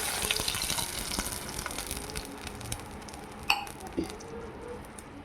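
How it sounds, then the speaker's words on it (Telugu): Milk is poured into a pot while making upma, a steady pouring gush in a kitchen, with a couple of sharp metallic clinks from the pot or utensils partway through. "పాలు వేసేస్తున్నాం."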